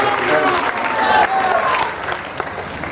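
Applause at an outdoor election rally in Rampur rolls as a steady wash of clapping from a large crowd, loud and close, with scattered voices mixed in.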